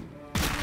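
A box of fireworks goes off in South Park: The Fractured But Whole as a sudden loud burst of crackling explosions, preceded by a brief quiet stretch.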